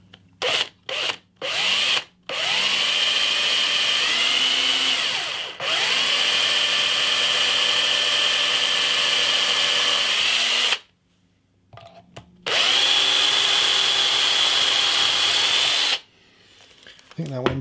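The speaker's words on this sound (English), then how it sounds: "drilling a hole on a line is just not one of my fortes" A power drill bores a hole through a bass guitar during a makeover, with a steady whining motor that ramps up and down in pitch across several long runs, broken by short starts and two pauses, with no talking.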